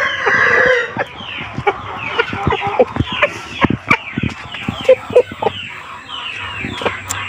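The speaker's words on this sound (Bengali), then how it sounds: "মোরগটা একদম সাদা চকচকে, প্রচণ্ড স্পিড" A white rooster of medium height, about 3 kg, clucks in short, sharp bursts close by, with quick scrabbling sounds between the calls.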